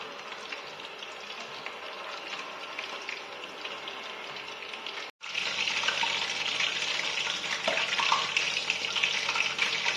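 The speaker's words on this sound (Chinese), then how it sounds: "我们现在就直接把这个花生米啊放到这个油里面去油炸了" Peanuts deep-frying in oil heated to about 160–170 degrees. A steady hiss runs first, then a brief cut, then a louder, denser sizzle with bubbling. No one talks.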